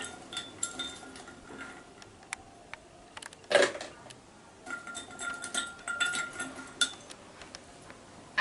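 Ice cubes go into a Jamaican cocktail: one loud, close clatter of ice lands midway, surrounded by faint scattered clinks and small taps, with no talking.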